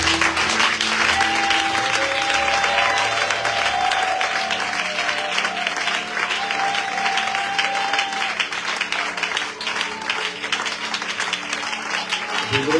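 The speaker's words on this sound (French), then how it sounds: "que nous commencions à acclamer le Seigneur" A church congregation applauding in worship, sustained dense clapping from many hands filling the room, with a voice speaking over it and a sustained tone beneath.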